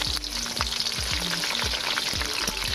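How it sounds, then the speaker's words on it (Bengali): Onions fry in a pan, a continuous dense sizzle with regular scraping stirs recurring roughly every half second, close and steady throughout. "তো পেঁয়াজগুলো ভালো করে একটু নরম হওয়ার জন্য অপেক্ষা করব।"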